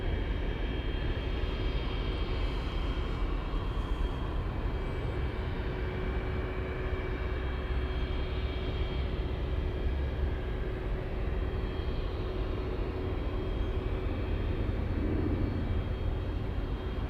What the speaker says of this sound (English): I'm hearing something power up, you guys. I think I'm hearing a 777 somewhere